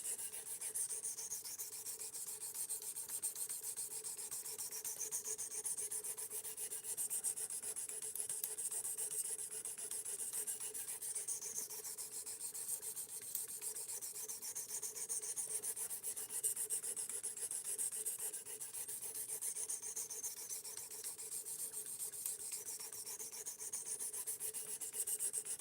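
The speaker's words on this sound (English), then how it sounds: "This is a knife sharpener." S35VN steel knife being worked on a knife sharpener: a continuous, faint, bright rasping scrape with rhythmic back-and-forth strokes, steady for the whole stretch, close by and without talk.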